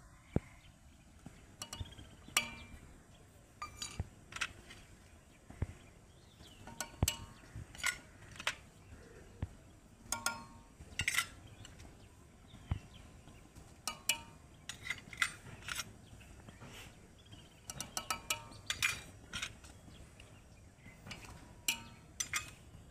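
A spoon scrapes and clinks against a pot while millet batter ingredients are stirred into boiling water, giving irregular sharp taps and knocks over a soft background hiss.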